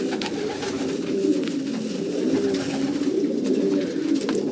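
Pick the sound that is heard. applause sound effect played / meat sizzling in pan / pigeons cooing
pigeons cooing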